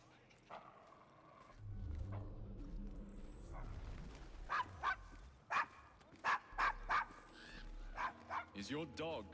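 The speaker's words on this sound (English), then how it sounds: "Is your dog quite all right?" A dog named Desmond barks in a rough London slum street in Assassin's Creed Syndicate, a run of sharp, loud woofs and growly yelps in the latter half, following low rumbling and conversation between characters.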